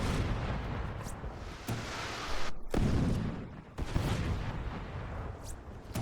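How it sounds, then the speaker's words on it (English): Rumbling explosions in the Xbox 360 game Crackdown, a continuous loud roar of blasts and debris with several sharp onsets and brief gaps, dense and booming throughout. "Stop with all the explosions."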